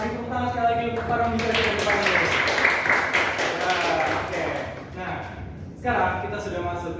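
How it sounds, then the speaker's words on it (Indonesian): Audience applause for the speakers at a university-transition talk, a dense burst of clapping that swells loud over a couple of seconds, with a voice talking over it before and after as it fades. "Beri tepuk tangan sekali lagi untuk para pembicara di depan."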